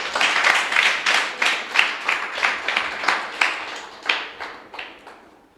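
A church congregation claps at a Christmas sermon in a prayer hall. The clapping comes in rhythmic bursts that are loud at first and then thin out and fade toward the end, with no voices heard.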